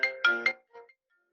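A computer ringtone signals an incoming call, sounding as three quick bright chime bursts followed by a fainter, shorter tone, clear and close with no talking over it.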